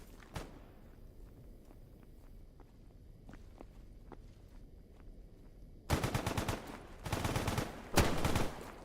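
Footsteps and scattered clicks give way to close, loud bursts of rapid automatic gunfire in the shooter game STALKER GAMMA, several rattling volleys separated by brief gaps.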